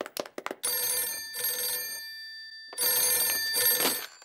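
Telephone in the cartoon Ben and Holly's Little Kingdom, a loud electric bell ringing in two long bursts separated by a short silence, preceded by a few quick clicks.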